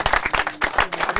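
A small group of trekkers clap together, brisk irregular handclaps overlapping in a short close burst lasting about a second.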